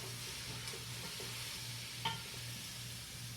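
Onion, garlic and potatoes sizzle steadily in a soup pot for Zuppa Toscana, a soft continuous frying hiss with a faint low hum beneath and one brief clink of a utensil partway through, no voices.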